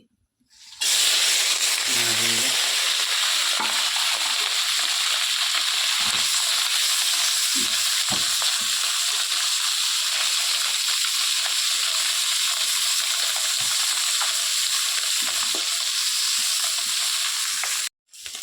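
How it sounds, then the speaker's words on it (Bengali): Puti fish frying in hot rice bran oil in a village kitchen, a loud continuous sizzle and hiss that runs steadily from start to finish, with a few soft low knocks from the pan early on. "তো মাছ মোটামুটি ভাজা হয়ে গেছে হালকা করে ভাজছি"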